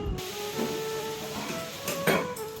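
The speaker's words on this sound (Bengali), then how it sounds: "এখানে আলুটা আর কুমড়োটা এখন ভাজা হচ্ছে" Potatoes and pumpkin fry in a home-kitchen pan with a steady hiss, broken by a few short scraping clatters, loudest near the end.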